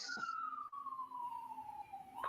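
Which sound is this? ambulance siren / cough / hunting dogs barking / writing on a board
ambulance siren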